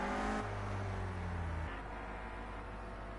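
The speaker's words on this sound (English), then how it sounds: "Gets his car going again" A Clio Cup race car on track in qualifying at Oulton Park pulls away again, its engine note rising through a brief rev and shift, fairly close and alone.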